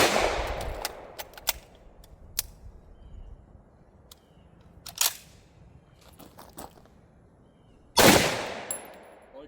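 A semi-automatic Egyptian Hakim 8x57mm battle rifle fires single shots at intervals during troubleshooting outdoors, with a loud sharp report near the start, another around the middle and a heavy blast near the end, plus fainter clicks between.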